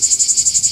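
A cicada perched on a tree trunk sings in a steady, loud, pulsing buzz, with regular rapid throbs about ten times a second and nothing else around it.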